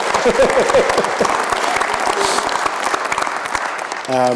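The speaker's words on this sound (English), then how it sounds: "I think we'll have a round of applause after each one" An audience at a university panel discussion gives a round of applause that fills the room steadily and then tapers off, followed by a brief spoken phrase at the end.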